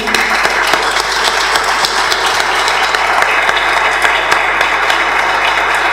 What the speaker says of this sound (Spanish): yo voy a pedir simplemente un aplauso grande para Adelis